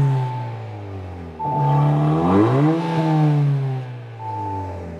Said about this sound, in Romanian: Băi, dar sună super gros evacuarea asta, pe bune